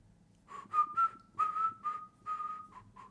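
Person whistling a short tune, a string of clear, wavering notes in a quiet room, fairly soft and close.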